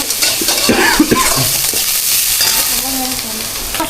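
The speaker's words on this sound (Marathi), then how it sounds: "आता मावशी हलवणार आहे कढई" Chilli masala with crushed green chilli and turmeric being stirred and fried in a kadhai for Mumbai-style vada pav, giving a steady close sizzle with scraping spoon strokes against the pan throughout.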